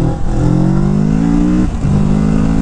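A 2021 Kawasaki Z650 motorcycle engine revs hard and close, its pitch climbing steadily, dropping briefly as the throttle is released, then holding high again.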